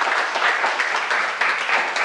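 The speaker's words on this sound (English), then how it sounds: "I think that we all should give you all, Mr. President, and the civil rights organizations a round of applause" An audience at a community meeting on voting discrimination in Quitman-Brooks County, Georgia, gives a round of applause: dense, even clapping that fills the whole short stretch with no pause.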